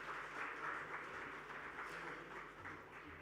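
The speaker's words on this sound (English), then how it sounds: "A round of applause, ladies and gentlemen," Applause rises from an audience at a technology awards event as panelists are welcomed, a faint and steady patter of clapping heard at a distance.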